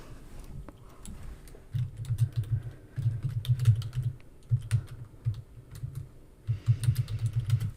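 Close keyboard typing in quick bursts of clicky keystrokes, separated by short pauses. No one speaks.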